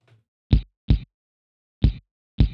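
Four punchy thumping drum-like hits with a slightly hollow attack, unevenly spaced with short silences between, beatbox mouth percussion played through a classic clean amp model.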